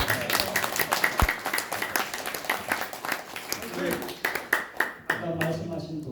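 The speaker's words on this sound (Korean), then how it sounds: "더 뜨거운 박수 한번" Clapping from a forum audience swells under a loud voice on a microphone, with scattered sharp claps over continuous talk and crowd noise.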